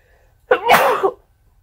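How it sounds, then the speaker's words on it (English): A single sharp sneeze bursts out close up, brief and forceful, with quiet before and after. "I gotta sneeze"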